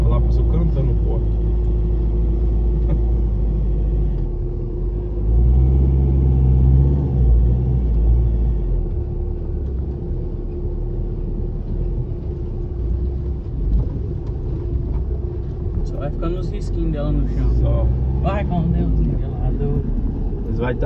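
A road leveler machine passes by on a rural dirt road with a heavy low rumble and engine drone that swells and fades, while people talk over it.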